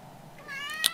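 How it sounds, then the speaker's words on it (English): A domestic cat gives a single drawn-out meow close to the microphone, rising and bright, with a short sharp noise right at the end. "my cat's in the way"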